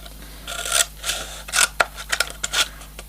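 Scissors snip repeatedly through recycled craft material, cutting it into small pieces: a series of sharp, close, irregular cuts with crisp scraping between them, and no talking.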